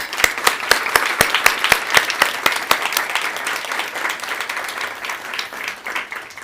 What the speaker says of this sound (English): join me in a round of applause for Nihon Hidakuyo and the Nobel Committee for their courageous and impactful decision